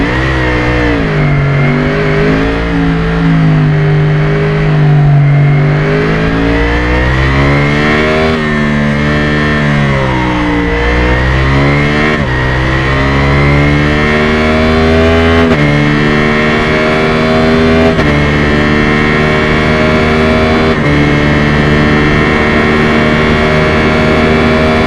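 A Yamaha XJR motorcycle engine in the RIDE game revs up and down repeatedly, loud and close, with a strong harmonic drone rising and falling in pitch through gear changes and no voices.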